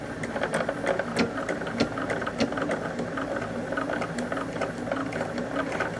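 A sewing machine runs continuously while stitching binding onto a quilt, giving a steady close mechanical whir with a fast rhythmic needle patter and no speech.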